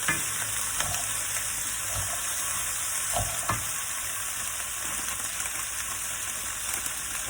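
Mixed vegetables sauté in a hot pan for a vegetable soup, giving a continuous loud sizzle with a few soft stirring knocks.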